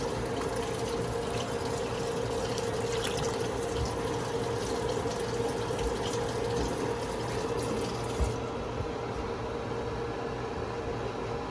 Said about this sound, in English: I'm just gonna put a little more water in.